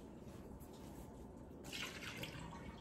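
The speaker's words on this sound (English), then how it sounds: "Make sure to dump out all of the old water." Old water poured out of stainless steel or glass parrot bowls into a sink, a soft trickling splash that swells in its second half, close by with no talk.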